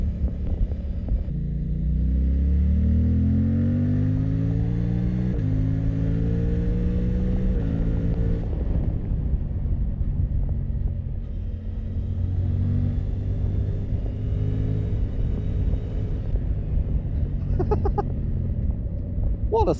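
A Suzuki GSX-8R sports motorcycle rides along a road, its engine note climbing in pitch through several gear changes, then holding a steady drone under loud rushing wind.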